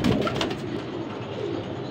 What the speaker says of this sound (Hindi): टोटल 20 कबूतर है माशाल्लाह